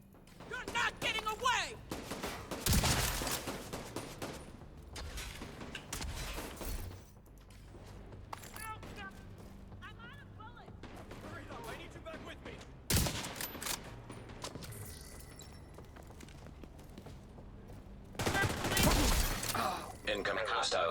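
Video game gunfire aimed at the player: scattered bursts of shots and sharp cracks, loud at times and fainter in between, with mechanical clatter and a voice talking across the fight.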